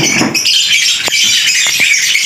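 Red factor canaries in an aviary keep up constant high chirping and twittering, with a few sharp short clicks or flutters cutting through.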